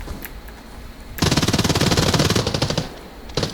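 Automatic gunfire in the shooter game Arena Breakout: Infinite rattles in a long, rapid burst of close, loud shots, followed after a pause by a short final burst.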